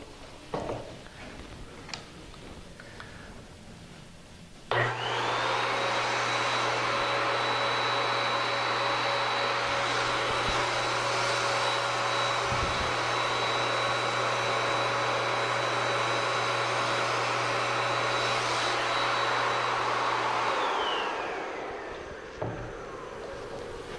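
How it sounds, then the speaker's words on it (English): A spray gun spraying waterborne wood finish gives a loud, steady hiss that runs without a break for about sixteen seconds. It starts abruptly and tapers off at the end when the trigger is released, with no talk over it. "with a spray gun and you're trying to spray an inside corner, it can be difficult."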